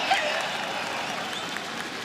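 Crowd applause at a 2019 LEC Summer semifinal esports event between Fnatic and Schalke 04, a steady, dense wash of clapping that holds evenly throughout.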